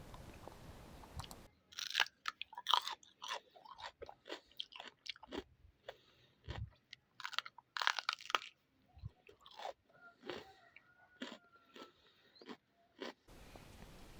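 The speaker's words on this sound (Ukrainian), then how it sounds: "Тільки послухайте, як воно хрумтить." Loud, crisp crunching bites into a raw, juicy pepper, followed by close-up chewing with irregular crunches and pauses.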